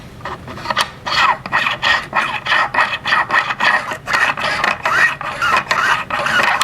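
A Howa Super Lite rifle bolt is cycled repeatedly right by the microphone, giving a steady rhythmic rasping scrape with each stroke, close and fairly loud with no talking.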